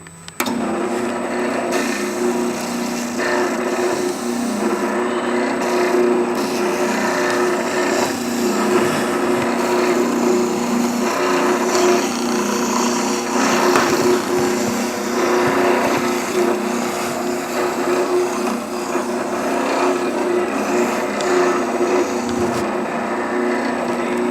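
Power sander working an inner pocket in a flat piece of wood, a loud continuous grinding drone with a steady motor tone running unbroken throughout.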